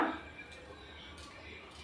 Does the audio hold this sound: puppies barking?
no